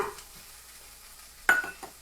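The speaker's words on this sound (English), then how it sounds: "So I'm just sauteing up my onions, getting them soft" Onions sautéing in a pan, a faint soft sizzle beneath a sharp stir or scrape of a utensil against the pan, followed by a couple of lighter clinks.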